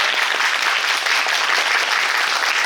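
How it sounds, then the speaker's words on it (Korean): After a musical, the audience gives the three actors and the staff a loud, full, unbroken round of applause that stays strong and even from start to finish. "모두에게 감사의 박수 드리면서 마무리하도록"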